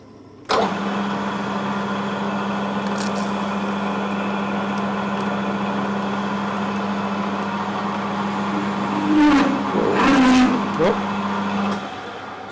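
A drill fitted with an annular cutter, switched to low gear, starts up in a shed and runs with a steady, fairly loud motor hum, with rougher grinding surges near the end before it winds down.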